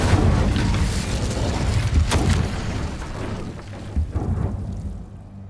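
Incendio fire spell cast in the Hogwarts Legacy video game, a booming burst of flame with rumbling crackle that swells, then fades after a few seconds.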